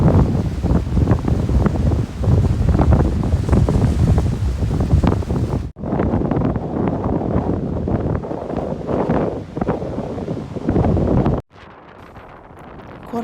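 Stormy wind roars across a Norwegian coastline as heavy sea waves crash, loud and continuous with gusty buffeting, broken by two brief drops in level.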